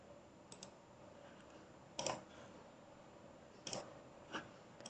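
Sparse computer keyboard key clicks, quiet and close, with a few isolated taps and a short double tap against a faint steady background hum.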